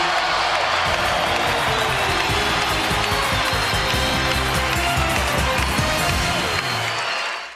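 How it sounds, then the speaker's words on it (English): A roaring basketball arena crowd at a Lakers vs Raptors game during Kobe Bryant's 81-point night, loud and sustained cheering that holds steady with a few voices over the noise before easing at the end. "this crowd on their feet"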